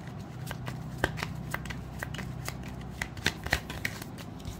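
Tarot cards shuffled and drawn by hand, a run of quick crisp riffles and soft flicks close to the microphone, irregular in rhythm, with a few sharper snaps and no speech.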